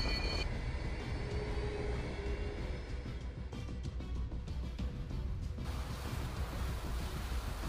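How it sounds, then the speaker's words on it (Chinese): A J-15 carrier-based fighter jet takes off from an aircraft carrier deck at night, with a loud, continuous broadband jet roar that holds steady throughout and no voices. "空放飞歼十五飞机。"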